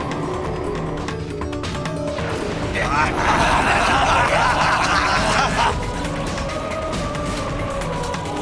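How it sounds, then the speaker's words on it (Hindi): A sudden loud crash as part of a stone statue breaks off and falls, a dense clattering burst lasting a few seconds over background music and voices. "अरे ये प्रतिमा का भाग अकस्मात कैसे गिर गया?"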